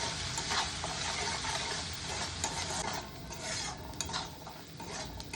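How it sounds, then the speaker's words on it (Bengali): Spice paste being stirred and fried in a pan while cooking patol, with scraping spoon strokes over a steady soft sizzle, close and continuous with no talking. "এরপর মশলাটা আবারও ভালো করে কষাতে হবে।"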